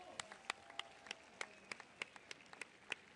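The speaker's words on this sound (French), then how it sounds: "Nous pouvons les applaudir très fort." Sparse, faint handclaps for the two finalists at the 2024 Tir de l'Oiseau shooting contest final: a dozen or so crisp, separate claps at a loose, steady pace, as if from only a few hands, over a quiet background.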